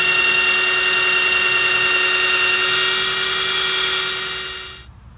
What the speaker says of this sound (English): I'm just going to use this power drill.